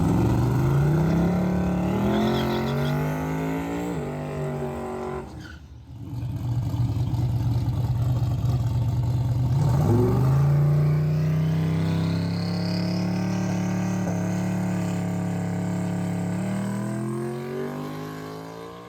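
A Ford Mustang accelerates on a track, engine climbing through revs, dropping off at a shift, then pulling again in a long, strained climb while struggling to come on boost; loud and close throughout.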